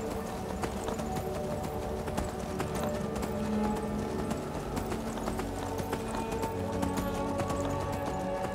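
Horse hooves in the video game Skyrim: a steady, rapid clip-clop of galloping running throughout, fairly loud against a constant layer of game music and ambience.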